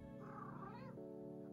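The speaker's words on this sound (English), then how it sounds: "you may be able to see this whiny kitty" A whiny house cat named Loki meows in a drawn-out, wavering cry indoors, fairly close and clear, then trails off into quieter background hum.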